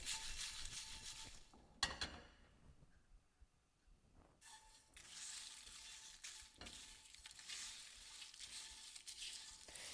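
Spices roasting in a pan for Sri Lankan crab curry give a steady close sizzle and crackle, broken by a few sharp scraping stir strokes and one brief quieter lull, with no talking.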